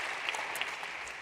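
Audience applause for a conference panel, a steady wash of clapping from a crowd filling a short burst with no voices over it.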